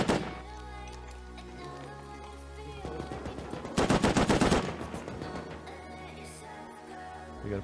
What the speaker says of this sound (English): Oh, someone's shooting at him.